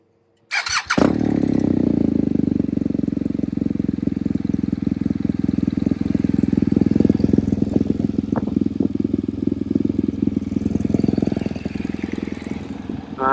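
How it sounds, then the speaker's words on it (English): A BMW R1200GS Rally motorcycle fitted with a Remus exhaust cranks and fires after a brief silence, then settles into a loud, steady, close-up idle with slight throttle blips for the rest of the time. "We'll get it outside and get it started."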